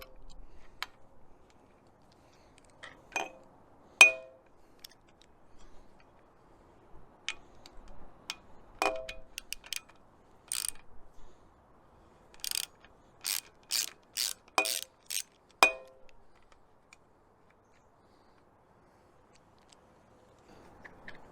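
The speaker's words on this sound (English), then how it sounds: "I'm gonna undo the top nut from the start nut" A ratchet clicks while undoing the top nut on a Rockshox Judy Silver TK bike suspension fork, in scattered short runs of crisp, close ticks separated by quiet gaps in a quiet room.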